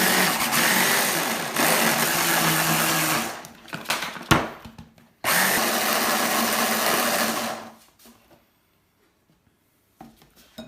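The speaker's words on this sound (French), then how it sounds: "Donc là, on va déjà mixer ça." Food processor blending sprouted seeds for a vegan pâté, whirring loudly in two long runs split by a short clattering stop, then falling silent.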